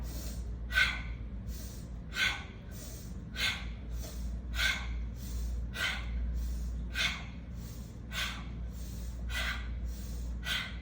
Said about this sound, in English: as we exhale, we make a ha sound and pull the belly button back towards the spine